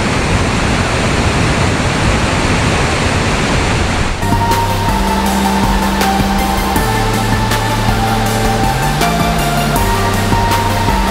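Rushing water from seven springs on an ecotourism mountain trail near Garzón, Huila, Colombia, a steady broadband roar that continues under music entering partway through.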